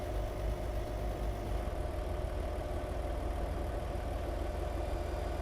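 A truck engine idles steadily in American Truck Simulator, a low, even diesel rumble with a faint knocking texture running unbroken and without voices.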